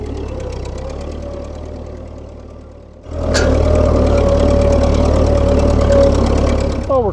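Farm vehicle engine at the Lohre Farm pumpkin harvest idling with a low knocking rumble, then throttled up sharply around three seconds into a louder, sustained steady roar, close by.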